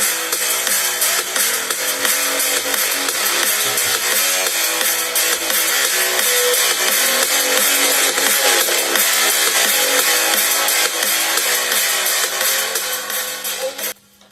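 A song plays through a TRONICA Firefly 40W 5.1 Bluetooth home theater speaker system streaming from a phone, with the bass switched off, giving steady, full-range music at an even level for about fourteen seconds before it cuts off.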